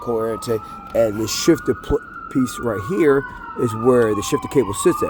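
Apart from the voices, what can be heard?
police or ambulance sirens in the city background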